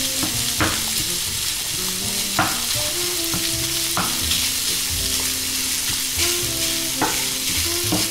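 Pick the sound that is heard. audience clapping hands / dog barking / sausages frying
sausages frying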